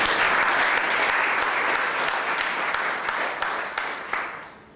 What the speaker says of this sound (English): A round of applause for you